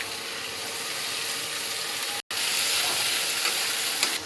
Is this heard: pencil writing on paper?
no